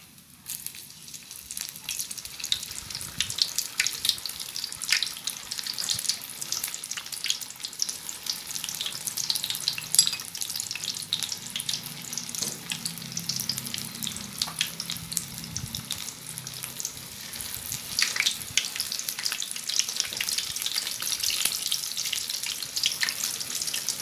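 Bitter melon deep fries in hot oil for a second time to turn it crisp, a close, continuous crackling sizzle with dense popping bursts and no talking.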